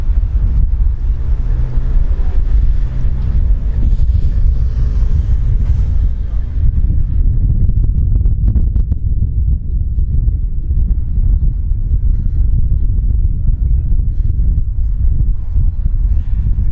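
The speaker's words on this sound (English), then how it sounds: "There's a little bit of a wind started to kick up here." Wind blowing outdoors at a Blackpool building site, buffeting the microphone as a loud, continuous low rumble that sounds fuller at first and a little thinner later on.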